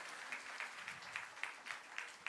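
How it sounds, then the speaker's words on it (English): Lecture audience applauding at a memorial lecture: a faint, steady patter of many hands clapping, with a few sharper claps popping out at regular beats, heard from a distance without speech. "I think a louder round of applause."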